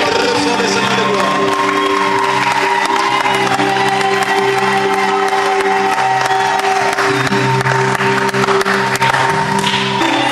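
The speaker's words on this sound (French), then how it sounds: "Ils se mettront debout sous une acclamation." Wedding guests in a crowd clap and cheer continuously throughout, a dense wash of applause with scattered shouts and singing voices layered in.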